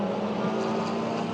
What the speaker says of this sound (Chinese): 现在里面有在举行一个赛车比赛，好像是。引擎的轰鸣声还听得很清楚呢。